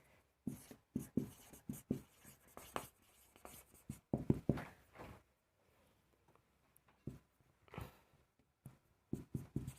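Chalk or marker writing on a board during a math class on Rolle's theorem, heard as quick scratchy strokes in short bursts with pauses between, close and fairly clear.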